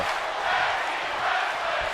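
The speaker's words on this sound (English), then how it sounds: "Listen to this crowd chanting tag team wrestling." A wrestling arena crowd in WWE 2K25 during a women's tag team match keeps up a steady, dense roar of chanting and shouting with a slight rise and fall, filling the whole stretch without a break.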